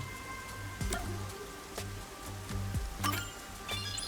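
Steady rain from the video game Master Detective Archives: Rain Code Plus falls continuously at low level, a soft hiss broken by faint clinks and occasional drips, with no voices.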